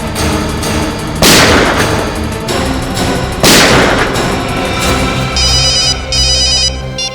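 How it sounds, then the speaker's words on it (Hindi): A telephone rings in repeated electronic bursts near the end, over heavy booming blasts and a dense, loud background. "मैं दया को फोन करता हूँ।"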